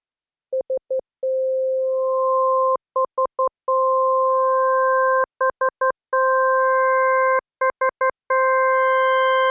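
An organ-like tone built by additive synthesis from six sine waves plays as a pure, steady electronic note, broken by short stuttering pulses between sustained stretches as further harmonics stack on one by one, with no voice.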